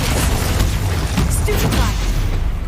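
The Bombarda blasting spell in Hogwarts Legacy, heard as a loud, sustained booming burst with rumbling debris and crackle, dense and close throughout.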